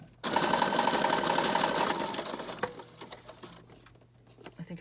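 A sewing machine zigzag stitches through a folded magazine signature, running in a steady fast mechanical whir for nearly two seconds before slowing and stopping, followed by light handling clicks.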